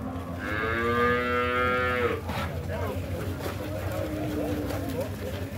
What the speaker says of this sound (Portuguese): Tem umas vacas aí, tem umas garrotas.